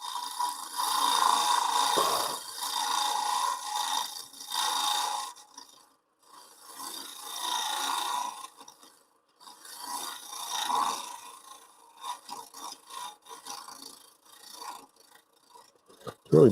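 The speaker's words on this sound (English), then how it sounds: "I'll scrape this out a little bit." Woodturning scraper rasping across spinning face-grain wood, a coarse continuous scrape in several bursts with short pauses between them, loud and close.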